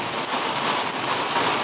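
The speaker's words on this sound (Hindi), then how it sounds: "इधर देखो बारिश हो रहा है, बारिश हो रहा है" Steady rain patters down outdoors during a fishing trip at Syarpu Tal lake, a soft, even hiss of drops that continues without voices.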